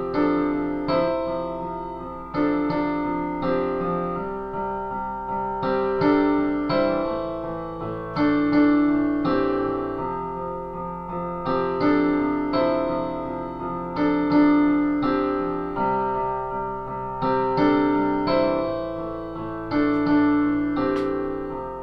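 A melody harmonised in parallel a fifth above, played as a steady run of clear pitched notes in repeating phrases with regular attacks, sustained and evenly loud throughout without any speech.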